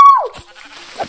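A single short sheep bleat from Minecraft, loud and close, followed by faint soft thuds from the game.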